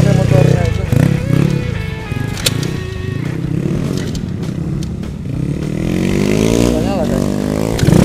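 A motorcycle engine runs and revs nearby, rising and falling in pitch, while people talk over it.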